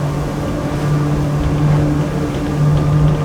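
An Axopar 45 motorboat runs flat at around 42 knots, giving a loud, steady engine drone mixed with rushing water and wind noise and no break.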